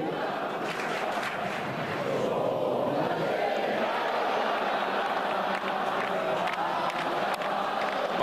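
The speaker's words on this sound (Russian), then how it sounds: "громкие аплодисменты болельщиков." A large stadium crowd of football fans applauds and roars steadily at a Barcelona league title celebration, a dense wall of clapping and cheering that holds at a constant level.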